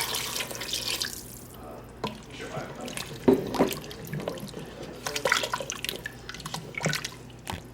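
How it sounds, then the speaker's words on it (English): Four cups of beef broth pour into an Instant Pot with a soft, uneven liquid splash and trickle, close and fairly quiet, with small gurgles and drips. "then we will add our 4 cups of beef broth"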